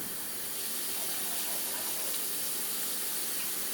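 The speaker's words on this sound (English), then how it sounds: "And I'm going to pour a cup of water off." Steady, close rush of water poured off a pot of quinoa, splashing, a continuous hissing stream with no pauses.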